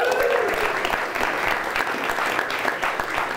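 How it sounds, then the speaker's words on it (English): Audience applause at an improvised comedy crowdwork show, a steady wash of many hands clapping together throughout, fairly loud with crowd noise mixed in. "If you live here, clap your hands if you live here."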